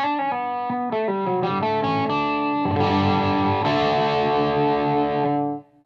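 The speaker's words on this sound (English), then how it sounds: "Here is just the tube driver circuit." Electric guitar played through the tube driver circuit of an ENGL Special Edition tube amp, a run of loud, sustained overdriven chords and notes with thick harmonics, ringing alone for about five seconds before cutting off.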